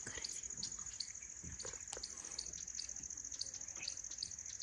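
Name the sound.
birds chirping on jungle safari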